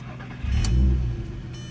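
A car pulls away on a test drive right after its squeaky brakes were cleaned, the engine swelling into a steady low rumble as it moves off, close and fairly loud with no talk.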